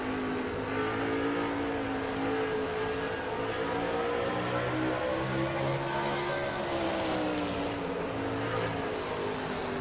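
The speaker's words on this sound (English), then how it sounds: "On board with Quentin Moore as he tries to chase down Bale Moscow in the 13 truck." Onboard a race truck in a NASCAR-style truck series race at Pensacola, the engine drones loud and steady with rising and falling harmonic pitch as it runs laps near 106 mph.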